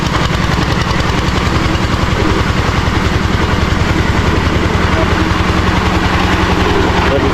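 A water well drilling machine's engine runs loud and close, a continuous rapid chugging thrum with rattling mechanical noise that stays steady throughout, as someone talks over it.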